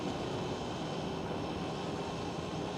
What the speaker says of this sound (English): Another KLM 737 is pushing back.